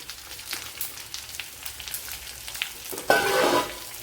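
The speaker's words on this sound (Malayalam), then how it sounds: "ഇതിനെ ഒന്ന് വഴട്ടിയെടുക്കാം" Chopped onions, two large ones, sautéing in a pan, giving a steady soft sizzle with faint stirring scrapes, then a louder burst of crackling frying near the end.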